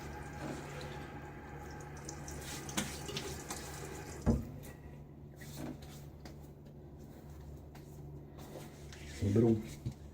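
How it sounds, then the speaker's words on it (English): Tap water runs steadily into a bathroom sink during a wet shave, with brief louder splashes as hands scoop water onto the face; a person talks softly over it. "All right, I'm going to splash my face."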